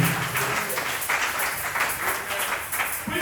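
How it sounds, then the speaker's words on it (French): Congregation applauding during a French-language church sermon, a continuous rustling wash of many hands clapping, moderately loud and even throughout, with no voices over it. "Applaudissez pour le Seigneur Jésus."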